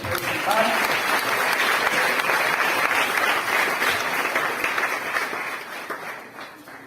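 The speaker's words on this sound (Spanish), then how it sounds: "Dale un fuerte aplauso al Rey." A church congregation applauds loudly, a thick, continuous roar of many hands with some voices and cheers mixed in, holding strong before fading toward the end.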